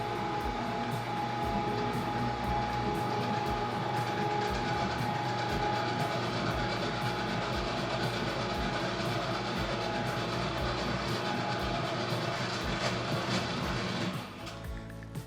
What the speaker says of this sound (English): If I turn on the grinder, the meat should slip right out.